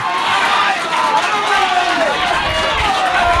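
Crowd noise from spectators at a men's Irish Senior Cup hockey final, a steady, loud roar of voices and cheering filling the whole moment without pause.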